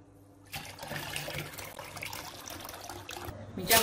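Rice-washing water poured into a container of bamboo shoots being pickled in brine, a steady splashing, gurgling pour that starts after a short pause and runs on close and fairly loud.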